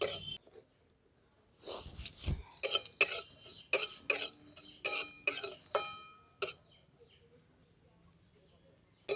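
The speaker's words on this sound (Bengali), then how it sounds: "ধনে, জিরে, মৌরি, গোলমরিচ আর শুকনো লঙ্কা, এগুলোকে আমি শুকনো কড়াতে ভেজে নেব।" Coriander, cumin, fennel, pepper and dried chillies dry-roasting in a wok, heard as scattered scraping and clinking stirs in irregular bursts, moderately close, with quiet gaps between.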